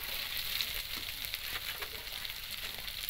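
Onion and chopped tomato fry in a pan for a sea-fish curry, giving a steady, dense hiss that stays close and even throughout with no voices.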